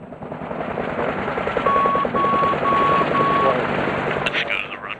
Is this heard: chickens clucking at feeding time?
no